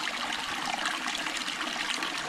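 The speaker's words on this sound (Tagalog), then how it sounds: "Kasi malakas yung tubig." A strong stream swollen in the rainy season rushes past close by, a steady, bright, continuous wash of water with no break.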